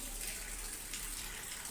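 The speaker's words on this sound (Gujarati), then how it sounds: "વરસાદ ચાલુ થઈ ગયો હોય દેખી લો તમે" Rain starting to fall during a storm makes a steady, rushing hiss of water, fairly soft and even throughout, with no talking.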